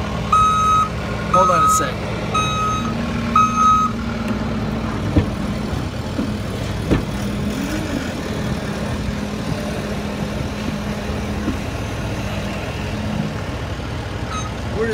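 Reversing beeps from a skid loader ring out in repeated short tones near a truck, over a steady engine idle, with someone speaking briefly.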